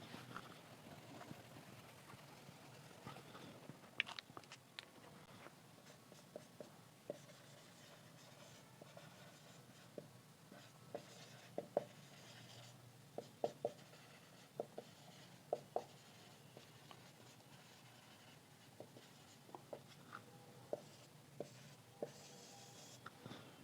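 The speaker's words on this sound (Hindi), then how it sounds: "तो उसको लिख लेते हैं हम लोग।" Notes are written by hand during a physics lesson on solenoids, producing faint, steady scratching and light pen taps over a low background hiss, with no talking.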